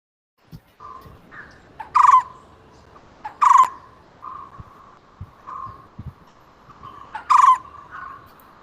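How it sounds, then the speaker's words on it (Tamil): A recorded white-cheeked barbet call plays back as a series of short, repeated hooting notes with a few louder sharp bursts, fairly clear against a quiet background. "நான் இப்போ உங்களுக்கு ஃபர்ஸ்ட் வந்து ஒயிட் சீக்டு பார்பட் ப்ளே பண்றேன்"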